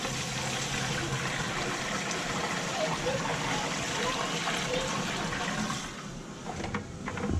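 Wastewater from an RV black tank drains out in a steady rushing, gurgling flow, loud and continuous, easing off near the end as the stream thins to a trickle.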